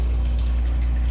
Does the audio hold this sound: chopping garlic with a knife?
no